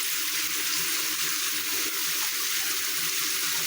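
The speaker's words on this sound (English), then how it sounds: "Get water back in there" Water pours steadily for cats, a constant hissing splash that stays loud and even from start to finish with no voices.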